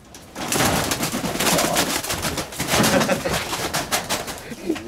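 Pigeons coo softly and repeatedly at close range, with flutter and rustling noise throughout and no talk.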